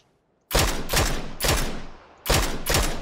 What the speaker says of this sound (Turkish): Ya oğlum hep SKS ile vuruyorum